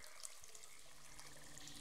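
Steady broadband rush of a waterfall in the Children of Morta game, a constant hissing wash of falling water with no talking over it.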